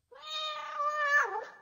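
A single cat meow in a fable narration, one clean drawn-out cry rising then bending down at the end, close and alone with no other sound.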